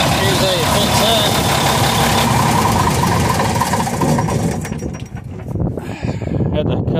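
An R model Mack truck engine idles steadily and refuses to shut off, a loud continuous diesel rumble that dips briefly near the end before resuming, with some background noise around it.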